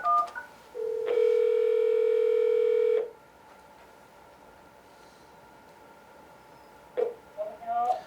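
A phone line ringback tone sounds once while a call is being connected, a steady electronic buzz lasting about two seconds, followed by quiet line hiss and faint clicks.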